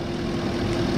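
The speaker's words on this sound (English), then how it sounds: "All right, so engine running," A replaced LS engine idles close by in a steady, even low rumble with no breaks, running alone without voices.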